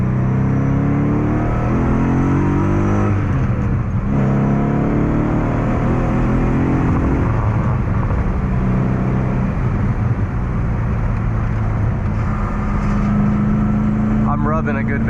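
A BMW E30 with a 4.4 litre M60 V8 drives a mountain road, its engine a loud continuous rumbling drone that rises and falls with revs throughout.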